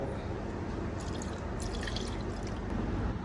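Soy sauce pouring into a pot of chicken adobo, a steady close liquid trickle with light dripping that runs alone for about three seconds.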